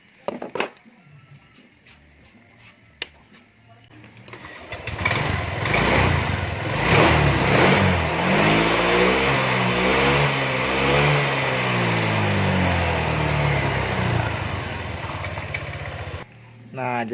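Honda Vario scooter with a sputtering fault under throttle after its injector was cleaned: a few clicks, then the engine starts and revs loudly for about twelve seconds with uneven, wavering pitch before cutting off abruptly.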